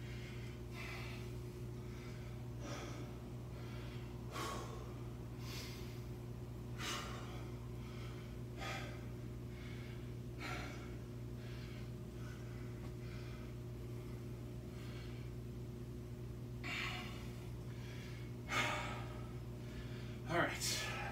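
Heavy breathing after kettlebell training with 32 kg swings and 24 kg Turkish get-ups, repeated close exhales and snorts over a steady background hum, without talk.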